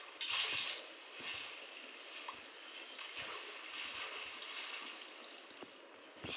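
Steady rushing and gurgling of flowing water in a blocky survival video game, a continuous wash filling the whole stretch with faint clicks and taps under it, no voices.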